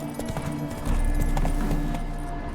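Hooves of Roach, Geralt's horse in The Witcher 3, clip-clop in a steady galloping rhythm, fairly close and loud over a low rumbling game soundscape.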